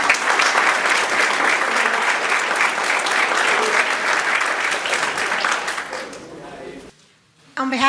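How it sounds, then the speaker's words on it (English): Sustained crowd applause for Susan at a chamber of commerce candidates forum, a thick wash of clapping that fades out near the end, with a voice briefly emerging afterward. "I say we give Susan a round of applause."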